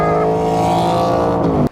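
Porsche 992 GT3 fitted with a Soul Performance exhaust, a loud, steady high-revving engine tone held briefly and then cut off abruptly.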